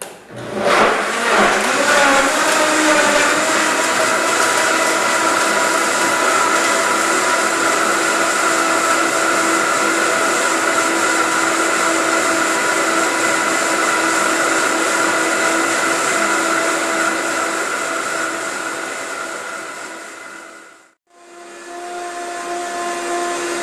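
A Vitamix high-speed blender blends vegetarian vegan soup with a loud, steady motor whine and churning roar for about twenty seconds, then cuts out briefly and restarts.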